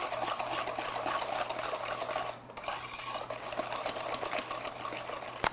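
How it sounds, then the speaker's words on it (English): Whisking sugar into a chocolate cake batter heavy with unsweetened cocoa powder, a continuous close scraping and swishing of the whisk in the bowl with a brief pause midway. "And then just whisk that in."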